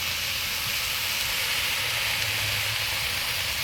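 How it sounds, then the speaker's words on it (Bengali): Water poured onto fried pulao rice in a pot during a village picnic cook-up, giving a steady, loud, unbroken sizzling hiss that holds throughout. "পোলাওয়ের চালটা ভাজা হয়ে গেছে, এবারে জল দেওয়া হবে।"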